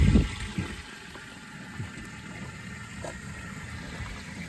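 Water gushes and splashes steadily into a cattle water trough after a couple of louder bursts at the start, running close by with no talk.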